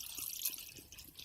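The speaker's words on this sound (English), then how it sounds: "And I'm going to pour some of the juice into" Juice being poured from a bottle into a cup for a protein shake, a soft dripping trickle of liquid heard close up with small regular splashes.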